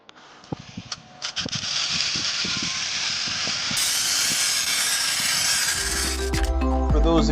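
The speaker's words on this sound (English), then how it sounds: "scoring the glass with the glass cutter" A glass cutter scores a sheet of glass for a fish tank build, making a close, sustained, harsh scratching hiss after a few faint clicks, with a brief clatter at the end.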